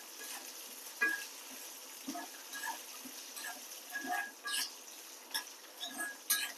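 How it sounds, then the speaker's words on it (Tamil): Shallots and a mushroom gravy base sizzle steadily in a pan for a Tamil-style mushroom curry, with soft stirring scrapes and occasional light clinks over a constant frying hiss. "எல்லாமே நல்லா வதங்கி வராங்க."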